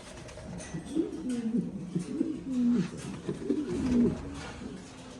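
Egyptian Swift pigeons, a running pair, cooing in repeated low throaty phrases close by, with faint background noise.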